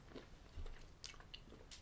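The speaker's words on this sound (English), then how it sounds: "There's only a very small crunch." Someone bites into a Nestlé Smarties Sharing Block, a piece of chocolate studded with candy-coated buttons, giving a few quiet, close crunches and chewing sounds in a near-silent room.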